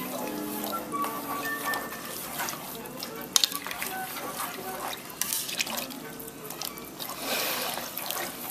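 Broth with vegetables stirred in a pot for cabbage rolls, with wet sloshing, scraping and light clinks of the spoon against the pot, plus a soft simmering hiss underneath, close and moderately loud.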